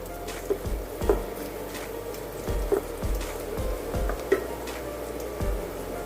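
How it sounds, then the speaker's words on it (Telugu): Carrot, cabbage and capsicum pieces stir-frying in a pan for veg fried rice, a steady close sizzle broken by soft thuds and scrapes as the vegetables are tossed and stirred. "ఇక్కడ నేను క్యారెట్, క్యాబేజీ, క్యాప్సికమ్ ఈ 3 కూడా పీసెస్ కట్ చేసి వేస్తున్నాను."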